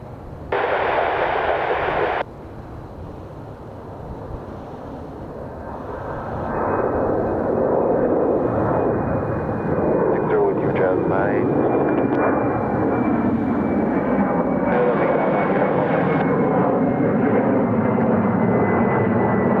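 An airliner lands on runway 27 center at Chicago O'Hare airport with a loud, sustained engine roar that swells and holds steady. A brief burst of radio chatter comes at the start, and a faint whine runs through the roar.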